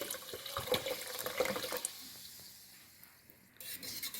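A bottle of mineral soda is poured into yogurt in a bowl, giving a close, splashy gurgle and fizz that fades to near quiet before a brief rustle at the end.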